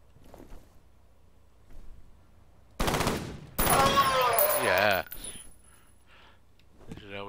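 In the F.E.A.R. video game a sniper rifle fires: two loud, sharp blasts a second apart, the second followed by a ringing metallic tail and mechanical clatter, set against quiet game ambience with no talk.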